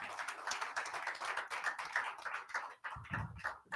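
Applause from a live television final audience for a contestant named Dan, sustained dense clapping with crisp individual claps throughout, plus a brief low thump near the end.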